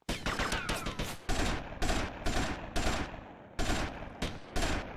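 Rapid bursts of gunfire from a shootout in GTA Vice City, loud and close, firing in repeated sustained volleys separated by brief pauses with no talking.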